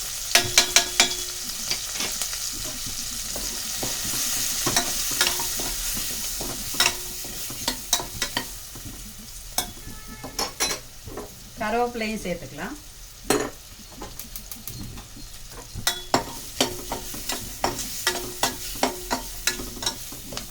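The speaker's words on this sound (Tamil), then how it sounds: "ஒரு 2 நிமிஷம் இந்த மிளகாத்தூளும் மஞ்சத்தூளும் நல்லா இந்த எண்ணெயில் வதங்கணும்" Onions and shallots with chili and turmeric powder sizzle steadily in hot oil while a utensil stirs and scrapes the pan in repeated clatters; a voice speaks briefly over the frying.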